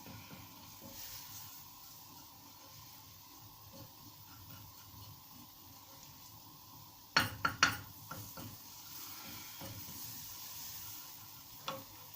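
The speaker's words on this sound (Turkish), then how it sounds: "Bunu şimdi ben kavrulmuş un cibil biraz kavuruyorum." Flour dry-roasting in a pan for Black Sea-style cheese kuymak gives a faint, steady sizzle, with a short burst of clinks and scrapes midway and one more knock near the end.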